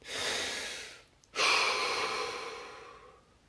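A slow, deep breath drawn in and let out during a guided muscle-relaxation exercise, two long airy swells split by a brief pause, close and alone with no talking.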